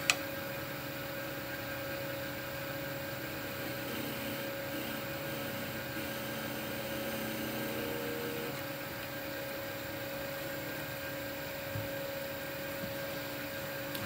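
A wood lathe runs steadily while making a parting cut on a jewelry box piece, giving a constant motor hum with a faint scraping tone that stays even and close throughout, with no talking.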